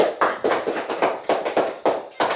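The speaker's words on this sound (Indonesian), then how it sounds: "Oke, tepuk tangan untuk 3." A class of students claps together in a classroom, a rhythmic series of sharp, loud group claps in a repeating pattern, close and clear with no talk over them.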